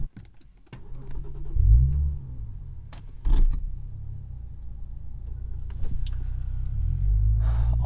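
Infiniti Q50 with traction control switched off, heard from inside the cabin as a steady low engine rumble that swells around the second second, with a few brief clicks and thumps and no talking.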